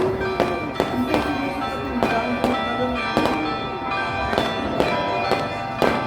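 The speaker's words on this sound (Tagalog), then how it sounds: "Ay, ang ganda ng fireworks oh." Repeated sharp fireworks bangs crack at fairly regular intervals, about ten bursts, over a ringing, bell-like tonal background, during a religious procession in Antipolo.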